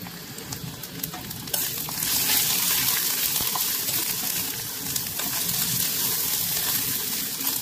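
Pigeon meat with spices fries in a pan on a gas stove, giving a close, steady hissing sizzle that swells louder after a quieter start and carries on with faint stirring scrapes.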